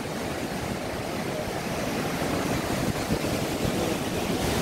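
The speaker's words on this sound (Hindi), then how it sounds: "गर्म पानी निकल रहा है तो वहाँ चावल पकाते हैं।" Hot spring water gushing out at Manikaran, steady broadband rushing and splashing like a strong outflow, close and continuous with no talk.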